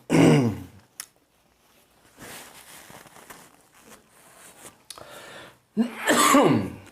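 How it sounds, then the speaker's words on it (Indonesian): A person clears their throat and coughs in short rough bursts, one at the very start and another near the end, close to the mic with a quiet room between. "Batuknya nggak hilang-hilang."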